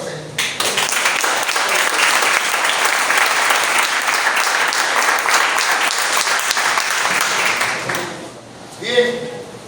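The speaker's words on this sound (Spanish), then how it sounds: "tiene un aplauso al Señor" A church congregation applauds the Lord during a pastor's sermon, sustained loud clapping from many people for about eight seconds before fading, then a voice speaks briefly.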